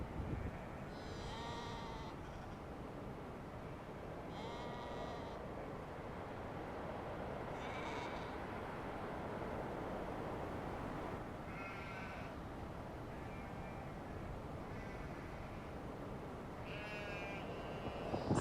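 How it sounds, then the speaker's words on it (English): Sheep in a winter field at Campdale on the Yorkshire Wolds Way bleat repeatedly, several loud calls spaced over steady wind noise, some near and some farther off, as the flock runs toward the listener. "all the sheep seem to be running towards me"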